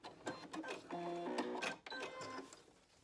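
Sewing machine running a short back stitch on a fabric scrunchie, a close, fast mechanical whirring in several bursts with brief pauses between them.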